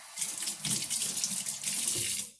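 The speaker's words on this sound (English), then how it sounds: "let me rinse my hands." Tap water running over hands in a kitchen sink, a steady close splashing rush with shifting spatter as the hands move, then a sudden cut-off as the faucet shuts.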